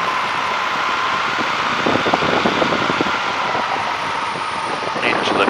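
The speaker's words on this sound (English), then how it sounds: "Starting to throttle back now." A de Havilland Tiger Moth biplane engine being throttled back on approach to landing at Duxford, a loud, steady droning roar heard from inside the open cockpit with wind rush.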